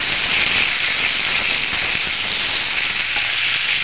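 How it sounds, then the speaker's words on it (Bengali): Steady, bright sizzling of leaves frying in hot oil, continuous and close, with faint crackles and no voices. "এবার আমি কারি পাতাটা দিয়ে দিচ্ছি, এটাকেও অল্প একটু নেড়ে চেড়ে ভাজা করে নেব।"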